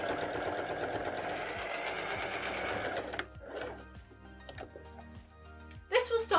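Sewing machine stitching a short line at the side seams of a pants waistband, a fast even whirring run of needle strokes that stops abruptly, followed by a few soft clicks and fabric handling sounds.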